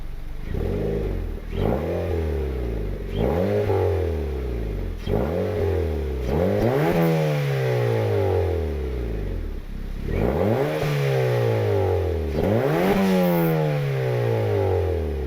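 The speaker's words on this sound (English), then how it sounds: "give you guys a couple revs here" A loud Honda Civic with a turbo R18 engine and muffler delete revs repeatedly, each sharp rise in pitch falling away, about six blips with a raw, crackly, unmuffled exhaust tone.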